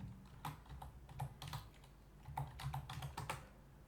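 Someone types a password on a computer keyboard, a quiet run of uneven key clicks in two short bursts with a brief pause between them, close up in a calm room.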